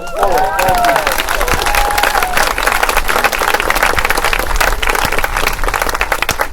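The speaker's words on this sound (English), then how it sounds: "let's give Jimmy a hand for it" Steady applause from a crowd at a city council event, sustained and dense throughout with a few voices faintly calling out near the start.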